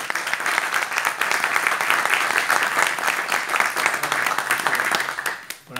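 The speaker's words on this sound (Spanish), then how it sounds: "le voy a pedir un aplauso para" An audience at an evening book presentation gives sustained, close applause. Dense clapping continues throughout and thins out at the very end.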